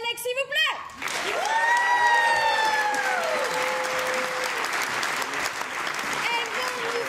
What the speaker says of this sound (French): Nous pouvons accueillir et applaudir très très fort Élise et Alex, s'il vous plaît.